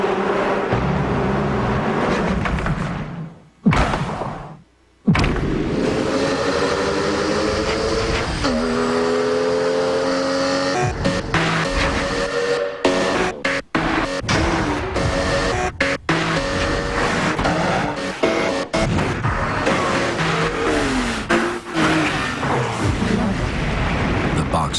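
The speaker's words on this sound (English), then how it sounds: "Boxster, perfectly tuned. Porsche, there is no substitute." A Porsche Boxster engine revs and accelerates loudly and close, with rising and falling pitch sweeps, a brief cut near the start, and a narrator speaking over it.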